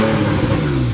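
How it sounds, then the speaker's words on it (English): A 2015 Porsche 911 GTS Cabriolet revs hard in sport exhaust mode, a loud, close, sustained engine note climbing in pitch over a short burst with no speech. "Sport exhaust."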